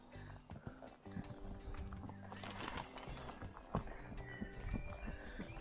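A horse on an obstacle trail steps over a rotten fallen tree, its hooves thudding and clopping irregularly on soft ground, quiet and close, with occasional rustles and faint background sounds.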